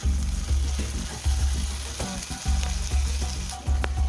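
Spice paste sizzles steadily in hot oil for an egg omelette curry, a continuous crackling fry with soft rhythmic stirring scrapes every half second or so, close and fairly loud with no talking.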